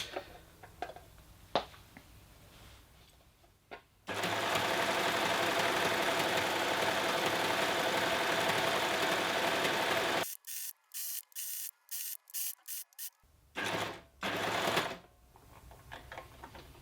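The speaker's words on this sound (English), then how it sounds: "I'm going to just literally just trim the edge of the fabric off as I sew" A sewing machine with its built-in blade engaged trims the fabric edge while stitching, giving a loud continuous whirring run, then a string of short stop-start bursts as the pace changes, with quieter clicks before.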